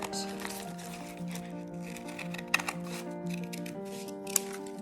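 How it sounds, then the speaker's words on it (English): Scissors snip out a square of paper for a popsicle stick luminary craft, a few close, soft cuts with small sharp clicks under a quiet, steady hum. "now we're going to cut this out"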